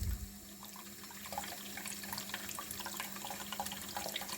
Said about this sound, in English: And then I'm going to fill up this bottom bowl